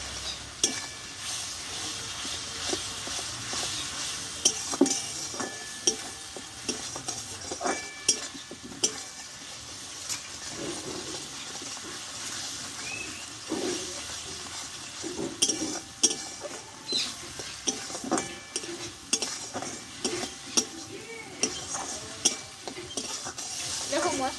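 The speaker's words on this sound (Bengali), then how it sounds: "আর দেবো একটু ধনে গুঁড়ো মশলাটা ভালোভাবে কষে নেবো" Spice masala with chilli, cumin and coriander powder being stir-fried in a pan for a cauliflower-stalk and soya dish: a low continuous sizzle with frequent close scraping and clinking of a utensil against the pan, no speech.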